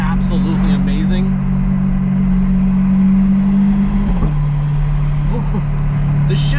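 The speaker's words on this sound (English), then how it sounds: "I have to say that this exhaust system is absolutely amazing." A C8 Corvette fitted with a Corsa Xtreme exhaust drives with a steady, loud droning note, then drops in pitch at a gear shift; a voice talks briefly at the start over it.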